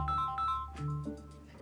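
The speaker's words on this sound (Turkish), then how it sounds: "Telefon çalıyor." Telephone ringtone chiming with a steady electronic melody indoors, a short burst of a few repeating tonal notes heard alone at moderate loudness.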